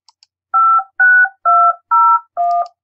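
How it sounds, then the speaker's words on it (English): Old-style telephone dialing tones: five steady dual-pitch beeps in an even rhythm, each about a quarter second long, loud and close with no other sound around them. "So it's like an old phone tone thing."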